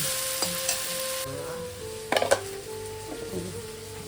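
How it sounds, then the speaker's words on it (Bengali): Fish curry with a little potato and mustard paste being stirred and fried in a home kitchen pan, a steady sizzle under scraping stirs and occasional clinks of a utensil against the pot. "এই যে মাছের তরকারিটা বানাচ্ছি মাছের তরকারি বানাবো"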